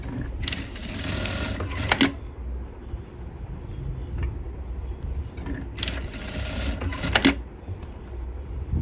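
A sewing machine stitches a sleeveless blouse in two quick bursts of rapid mechanical whirring, each ending with a click, with a quiet stretch of low rattle between them.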